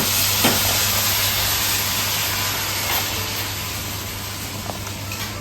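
Food sizzles steadily in a hot pan on a home stove as it is stirred, a dense continuous frying hiss with occasional scrape and clatter of the utensil, loud and close with no talk.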